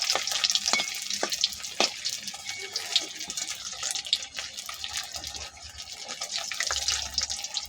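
Fritters made with bottle gourd leaves fry in hot oil in a pan, giving a dense, steady sizzle with occasional sharp clinks and stirring noises, close and fairly loud throughout.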